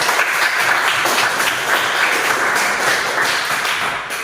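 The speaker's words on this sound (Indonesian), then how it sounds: "marilah kita sama-sama memberikan aplaus untuk satu sama lain" Students in a classroom applaud one another, a dense burst of clapping that continues steadily for about four seconds and then fades slightly.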